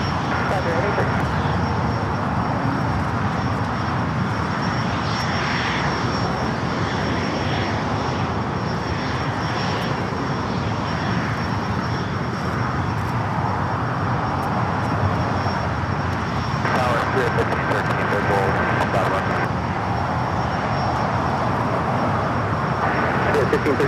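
A FedEx Boeing 767 touches down on the south side at LAX, with a steady, loud jet roar sustained throughout and a spotter talking over it.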